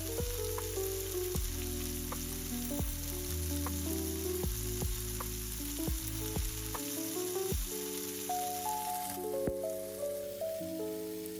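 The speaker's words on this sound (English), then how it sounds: "Give everything a quick stir so that the halloumi and veggies are in one single layer, and let them cook for about 3 minutes" Halloumi and vegetables sizzle in a pan, a steady dense crackle of frying with a bright hiss, continuing evenly under an unrelated tonal background layer.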